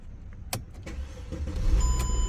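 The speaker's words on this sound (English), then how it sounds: "the car cranks right away" A Mercedes-Benz E-Class W211 engine cranks with a few sharp clicks, then a rising mechanical whir and rumble as it turns over, heard close with no talk.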